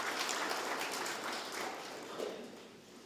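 An audience claps at a regional state address in Kavango West, Namibia, a fairly faint, steady wash of applause from a distance that eases off slightly toward the end.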